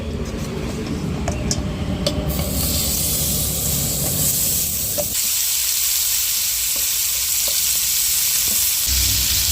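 Crab with taro stolons fries in mustard oil on a hot griddle, a loud, continuous close sizzle and hiss with faint pops and scrapes throughout and no talking.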